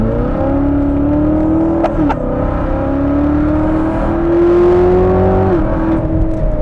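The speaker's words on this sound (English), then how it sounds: "It really makes a racket when you floor it." A 2019 Chevrolet Corvette ZR1 V8 is accelerating hard. Its loud, close engine note climbs steadily through the gears, with a brief dip at a shift before it rises again to a roaring peak.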